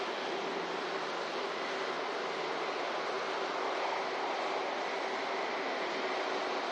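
Airliner touching down at Manchester Airport, a broad steady roar of jet engines heard from a distance, sustained and even for several seconds with no voices.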